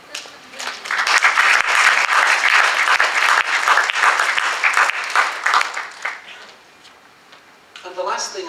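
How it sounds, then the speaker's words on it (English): An audience at a carers' centre annual general meeting in Sunderland breaks into loud, dense applause that swells, then thins and fades, with a few voices and claps at the end. "why not give yourselves a big round of applause?"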